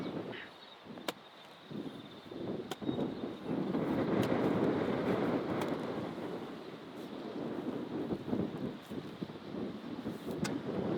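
Wind gusting across a windy hillside where young trees are being planted for an alpaca herd, a steady rushing roar that swells and eases, buffeting the microphone with a few faint knocks and no talk.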